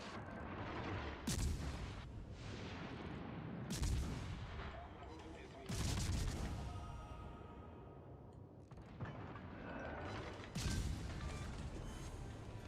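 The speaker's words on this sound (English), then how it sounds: "Look at these guns firing backwards even." Heavy warship main-battery salvos in World of Warships Legends: about five loud, booming blasts, each with a long rumbling tail, spaced irregularly across the clip over steady naval battle ambience.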